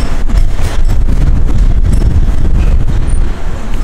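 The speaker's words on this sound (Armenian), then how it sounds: "Այսենց է քամին։" Strong wind batters a microphone outdoors in Yerevan, a loud, continuous low roar and buffeting that drowns the scene for the whole stretch, with only faint traces of other sound beneath.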